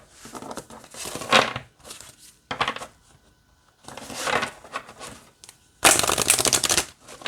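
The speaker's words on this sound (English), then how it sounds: "All right, let's see how it shuffles." A deck of Mother Mort's Carnival of Souls oracle cards is shuffled close up in several crisp riffling bursts separated by short pauses, the last burst loudest.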